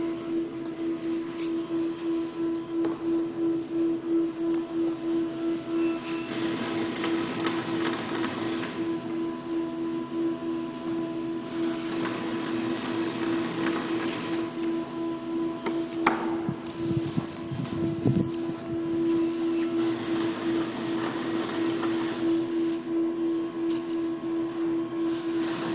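A short run box maker machine cuts cardboard blanks, a steady mechanical hum and whir with a constant tonal drone, punctuated by brief clunks and cutting thumps midway through.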